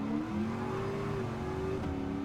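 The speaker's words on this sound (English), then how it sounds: "look at that Corvette go with that straight line speed, that is insane" Corvette race car engine in Gran Turismo 7, a sustained high-revving drone with steady harmonic tones that shift pitch slightly as gears change, fairly loud and continuous, with no talking.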